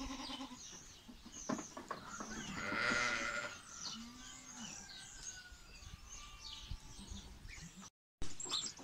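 Goats and sheep with lambs and kids bleating in a farm pen, many overlapping calls of varied pitch, some close and loud, others farther back, continuous with brief rustling.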